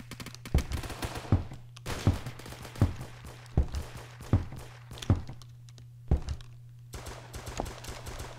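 Repeated gunshot-like bursts from a Roblox video game weapon, a shotgun that fires like a machine gun, come in irregular single blasts about every second over a steady low hum, with no talk.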